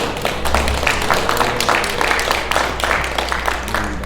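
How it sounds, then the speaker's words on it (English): Applause from the audience at a National Unity Platform gathering honouring a deceased comrade, with dense clapping and a few sharper individual claps running steadily for about four seconds. "Let's give a round of applause to Comrade Monel."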